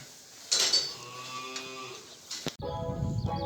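Cattle lowing while heifers and cows receive their daily ration of hay and wrapped haylage on a farm, several moos overlapping with faint clinking in the background, no talk.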